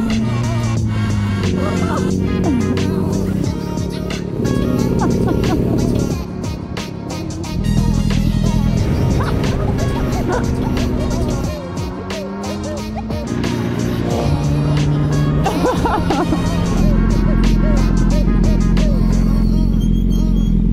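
A motorcycle carrying two riders drones steadily with shifting engine pitch as it rides along, loud and continuous throughout, with some voices mixed in.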